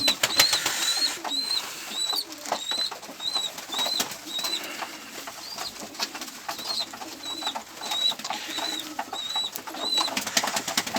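Pigeons at an evening feeding, their repeated soft coos and calls rising steadily over a busy backdrop with occasional wing flaps and light rustling, close by and fairly loud throughout.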